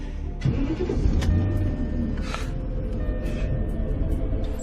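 A car engine cranks and catches, then settles into a low, steady rumbling idle close by, with no speech over it.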